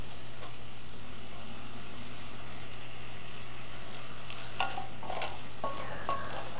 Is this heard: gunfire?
no